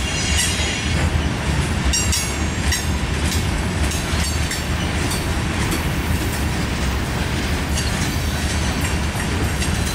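A CSX grain train rolls past close by on the line into the yard, a loud continuous rumble of cars with high metallic wheel squeals and rhythmic clacking over the rails.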